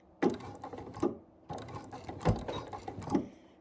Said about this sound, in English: now I'm probably going to backstitch one stitch